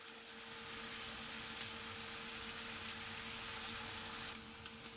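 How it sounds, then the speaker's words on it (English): Onions sizzle and fry steadily in a pan for a chicken pot pie, a continuous close crackle with a faint background hum and no talking. "We're gonna let it fry a little more."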